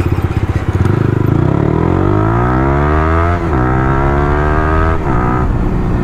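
Yamaha YZF-R15 V3 motorcycle with a chopped Akrapovic exhaust, loud and close, first burbling at idle then revving hard with rising pitch through several gear-like surges before easing off.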